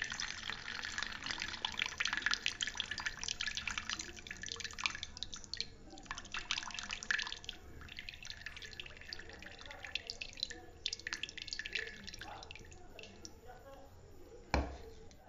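Water trickles and splashes as it drains out of a clay pot, with wet dripping and gurgling sounds continuing, then a single sharp knock near the end.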